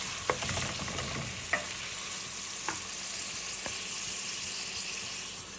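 Spice paste fries in oil in a pot, a constant loud sizzle broken by a few sharp utensil knocks against the rim as it is stirred.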